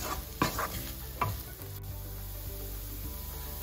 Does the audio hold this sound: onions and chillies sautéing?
yes